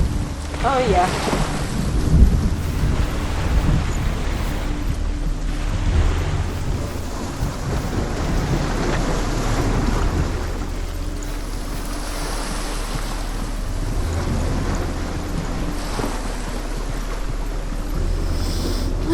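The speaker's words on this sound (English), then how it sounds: "It's raining." Rain with low rolling thunder in the Hellblade: Senua's Sacrifice game, a sustained, loud storm roar with a deep rumble peaking early, then a steady downpour continuing evenly to the end, with faint voices at times.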